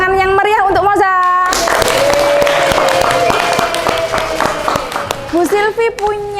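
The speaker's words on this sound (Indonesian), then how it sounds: "tepuk tangan yang meriah untuk Moza." Classroom applause for a student: a burst of clapping hands starts abruptly after a teacher's voice and continues steadily for several seconds, thinning out as speech resumes at the end.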